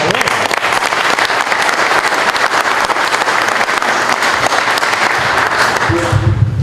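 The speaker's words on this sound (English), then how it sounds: "so we give him a round of applause" Audience applause for a donor at a local news event: a dense, steady wash of clapping from a crowd, fairly loud throughout and tapering near the end.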